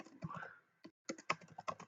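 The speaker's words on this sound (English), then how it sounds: "I'm getting used to this new keyboard." Fingers tap on a new computer keyboard while coding in Java, a short burst of quick, close, fairly quiet keystrokes with a brief pause in the middle.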